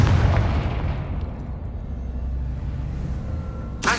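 A Confringo blasting spell in Hogwarts Legacy lets out a loud, rumbling explosion that slowly fades, followed by a sharp new burst right at the end.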